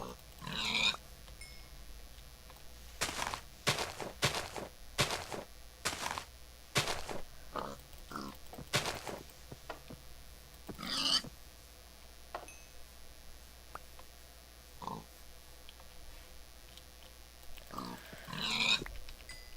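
Pigs in the Minecraft survival game grunt and oink in short bursts scattered across the clip, fairly faint against a quiet background, with occasional higher clinks.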